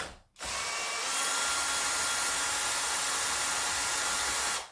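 A power drill unscrews the screws on a Pafuluo X-11 steering rod, starting after a brief pause and then whining loud and close in one continuous run for about four seconds.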